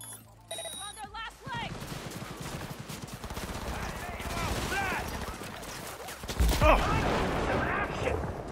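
Gunfire in the video game Cyberpunk 2077, bursts of rapid shots and impacts over game sound effects, with a louder blast near the end.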